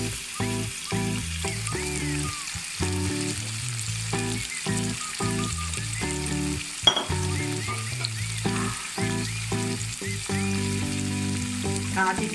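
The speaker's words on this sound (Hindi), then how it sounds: "अब मैं इसमें मैरिनेट किया हुआ चिकन डाल," Marinated chicken frying in a pan for biryani, a steady loud sizzle running throughout, with a few stirring scrapes and one sharp clink near the middle.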